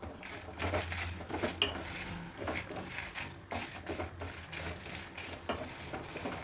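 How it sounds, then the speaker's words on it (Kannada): Dry Byadgi and Guntur chillies roast in a metal pan, giving a steady close clatter of scraping and stirring with sharp clinks against the metal, continuous and without voices. "ಎಲ್ಲ ಸೇರಿಸಿ ಒಟ್ಟಿಗೆ ಹುರಿದ್ಬಿಡೋಣ"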